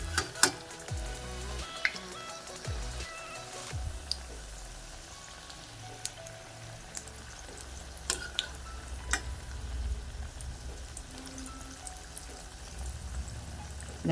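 Masala vada frying in hot oil: a faint, steady sizzle with scattered crackles and pops and occasional light clinks from a pan or spoon, heard alone and without any talking.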